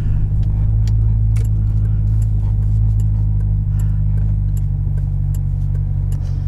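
A 2012 Chevrolet Corvette Z06 accelerates hard and breaks traction, its engine a loud, steady, deep roar heard close up from inside, with faint crackles over the drone.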